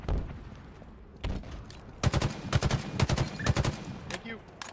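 Rapid bursts of gunfire from a Halo Infinite multiplayer match, sporadic at first, then dense, loud volleys in the second half, with some talk mixed in.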